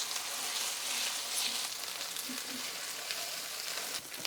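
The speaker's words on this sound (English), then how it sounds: "You will cook these onions until they look browned." Onions frying in oil in a pan until browned, the base for a North Indian red kidney bean curry; a constant soft, dense sizzle with faint stirring touches, steady throughout with no talking.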